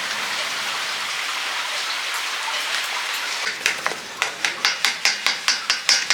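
Steady hiss of heavy rain falls at night, and partway through a series of sharp, regular knocks or taps begins, repeating roughly every half second over the rain.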